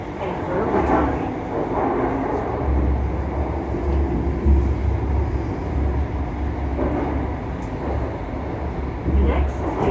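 Steady low rumble and rattling of a moving train carriage bound for Edinburgh Waverley, constant throughout, with a faint announcement-like voice in the background.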